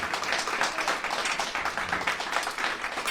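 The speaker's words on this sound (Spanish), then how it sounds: "¿Cuánto le damos un aplauso al Señor en esta hora" A church congregation applauding: dense, continuous clapping from many hands, steady and moderately loud throughout, with no clear voices over it.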